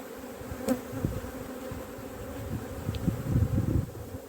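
A dense hum of honeybees around an opened hive during coastal swarm preparation, with a continuous nearby buzz that swells and fades as individual bees fly close, and no talk.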